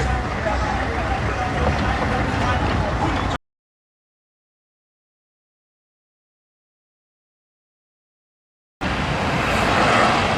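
Road traffic gives a broad, steady roar of passing vehicles. It cuts to complete silence for several seconds in the middle, then the same traffic noise resumes.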